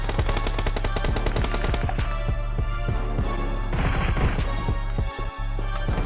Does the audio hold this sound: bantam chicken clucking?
no